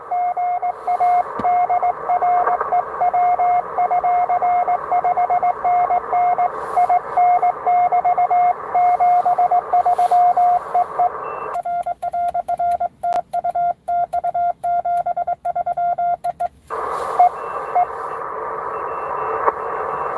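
Morse code CW radio signals from an amateur radio station doing parks on the air: a steady keyed tone beeps in rapid dots and dashes over a hissing band, with a burst of choppier keying partway through, loud and continuous.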